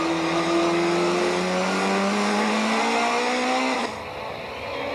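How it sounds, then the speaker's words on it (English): Onboard race cam in de Villiers' touring car shadowing an Audi at Aldo Scribante in 1998, engine roaring loud and steady with rising gear-held pitch, then a sharp cut as revs drop off near the end. "More race cam action from the de Villiers car as he shadowed former champion Moss"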